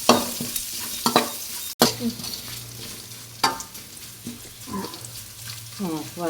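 Garlic, curry leaves and dried chilies frying in oil, crackling and popping under sharp spatula scrapes and clanks against the pan, close and fairly loud, with a few sudden sputters.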